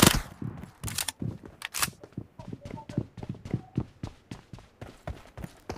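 Rapid bursts of gunfire in PUBG Mobile ring out in a steady rhythm, a series of sharp reports spaced through the clip, mixed with game sound and speech from players.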